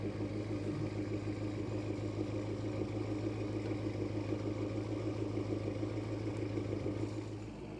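A high-mileage BMW M5 engine idles with a steady, low rumbling drone and faint mechanical clatter, heard fairly close with no talking.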